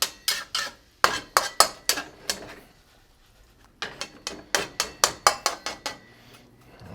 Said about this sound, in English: A little sizzle going.